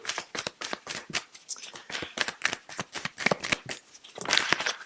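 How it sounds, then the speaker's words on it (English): Cards riffle and slap in quick, uneven bursts, close and crisp, a steady run of shuffling with no talk. "Going to give these cards a shuffle"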